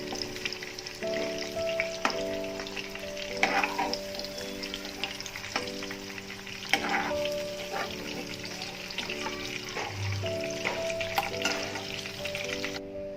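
Shallots frying in a pan, a steady crackling sizzle running throughout with occasional stirring scrapes, over faint steady background music and no talking.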